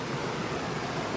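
Water flowing in a stream, a steady close wash of broadband rushing noise without breaks or voices.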